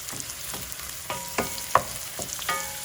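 Mushrooms frying in oil in a pan for risotto; steady close sizzle with a few clacks and scrapes of stirring, no voices.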